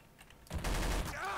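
M249 SAW machine gun firing in Garry's Mod, a short dense burst of rapid rounds starting abruptly mid-clip and running loud to the end.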